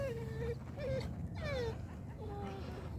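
A dog near a dock, heard from a kayak, whimpers in several high, thin whines, each drawn out and wavering, close and fairly loud over a low background rumble.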